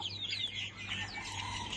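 A chicken clucks softly at dawn amid faint bird chirps, the calls low and somewhat distant over a quiet background.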